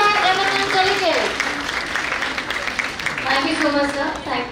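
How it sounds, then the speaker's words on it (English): Applause for delegates at an India-Japan education conference at a college in Jaipur, a steady crowd clapping running throughout under a speaker's voice. "Please give them a big round of applause to all our eminent delegates."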